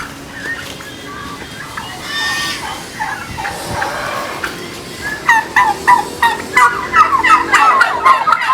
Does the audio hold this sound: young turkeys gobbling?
yes